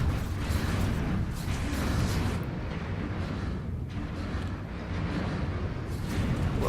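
Torpedoes launching in the space strategy game Stellaris, a dense roaring whoosh of in-game weapon fire with bursts and rumbling swells that dip briefly before surging again.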